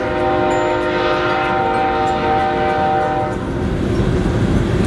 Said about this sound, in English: Oh, that train.